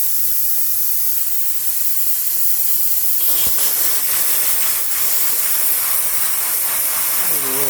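Propane gas hisses from brass fittings on a large tank, a steady broadband rush that runs throughout, loud and close, growing rougher and stronger about halfway in.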